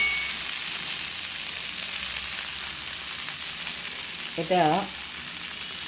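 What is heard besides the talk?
stir-frying (kosha) food in a pan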